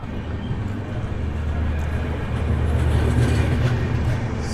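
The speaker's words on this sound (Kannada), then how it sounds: "ಟ್ರೈನ್ ಹೋಯ್ತಾ ಐತೆ" A continuous low rumble of a train passing by, steady and fairly loud, building slightly toward the end with no voices.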